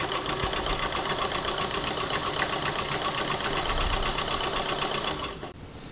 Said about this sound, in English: So I'm going to go ahead and finish sewing on both of my strips of lace, sewing them to my long strip of fabric.